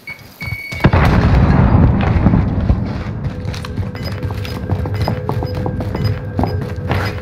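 A frag grenade in the Warzone shooter lets out one loud booming blast after a brief quiet moment, then a long rumbling decay under scattered game clicks and tones.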